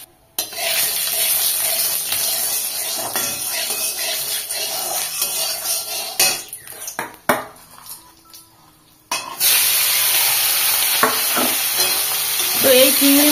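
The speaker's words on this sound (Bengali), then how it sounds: "এদিকেও দেখো আমার তেলটা বসানো হয়ে গেছে চিংড়ি মাছটা ভাজার জন্য।" Prawns fry in hot oil with a steady, close sizzle, interrupted midway by a brief quieter stretch with some utensil clatter before the loud frying hiss returns.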